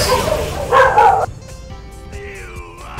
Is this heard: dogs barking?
yes